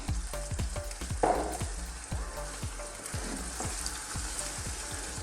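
Coconut milk sizzles with tofu and mushrooms in a pan on high heat, a dense continuous frying hiss over a low rhythmic ticking, with a faint stir midway and no talking.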